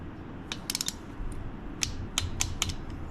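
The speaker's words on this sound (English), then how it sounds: "Now we'll snug that up and see how that goes." A bolt is snugged up on a Harley-Davidson 131 SE crate motor, giving short bursts of crisp ratchet clicks close by, with quiet pauses between the strokes.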